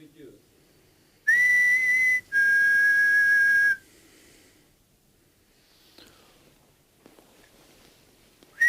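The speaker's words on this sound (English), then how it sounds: "If I whistle, will you whistle back?" A person whistles two loud, sustained high notes in a row, each lasting about a second, in a quiet room during a nighttime ghost hunt in Transylvania, followed by faint rustling and breathing.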